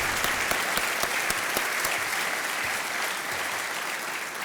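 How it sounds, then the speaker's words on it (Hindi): Studio audience on the KBC quiz show claps steadily throughout, a dense, even wash of applause with no voices over it. "तालियों के साथ इनका अभिनंदन किया"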